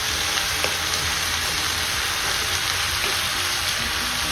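Broad beans frying in a pan for a dry fish curry give off a steady, dense sizzle that stays constant and fairly close throughout, with no talking.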